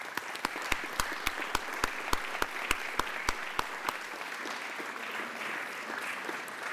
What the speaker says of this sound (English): I'd like to ask the members to join with me in giving him a round of applause